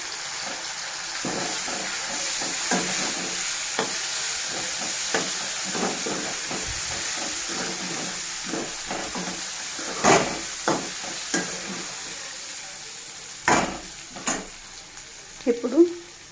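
Tomatoes frying and being stirred in a pan for an amaranthus fry, a steady sizzle with repeated scraping stirs and a few louder clatters near the end, with no talking.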